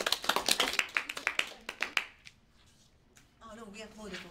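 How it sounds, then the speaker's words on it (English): A small meeting group claps together at the close of a session, a quick run of distinct, fairly close hand claps that thins out and stops, followed by a voice. "Oh no, we applauded already."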